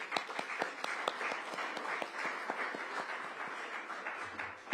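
Scattered hand claps from an audience at a mayor's public launch event for a city comprehensive plan, a moderate patter of individual claps at medium distance with no talk over it.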